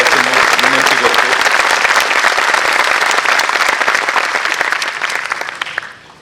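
Loud, sustained audience applause at a formal gathering of a Maharashtra court employees' federation, dense and steady for several seconds before tapering off at the end.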